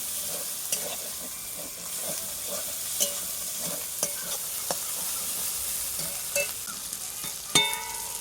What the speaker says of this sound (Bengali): মশলা আমার কষানো হয়ে গেছে মশলা থেকে তেল বেরিয়ে গেছে